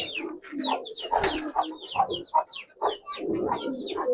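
A pair of Giribaz pigeons coo and burble at close range, soft rolling calls repeating in quick overlapping phrases with brief bright chirps, no speech.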